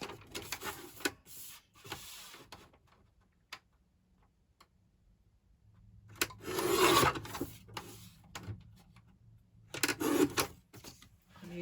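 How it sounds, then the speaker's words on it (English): A Tonic Studios paper guillotine slides and cuts through card in several short, close rasping strokes separated by quiet pauses, with small ticking and handling noises between them. "Using a Tonic Studios guillotine over there, which I really like."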